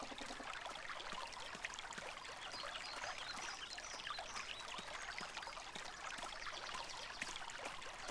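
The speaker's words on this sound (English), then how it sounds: "Tutaj, co mamy? Fontanna." Fountain water trickles steadily in the Black Mirror game, a soft, continuous splashing and dribbling stream heard alone and fairly faint.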